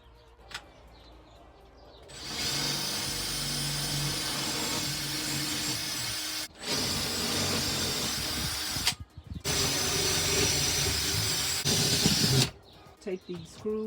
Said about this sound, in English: Take these screws out.